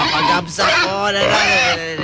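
A loud, close pig-like grunting and squealing, most likely a human voice imitating a pig, fills the two seconds in rough, nasal bursts with a brief gap.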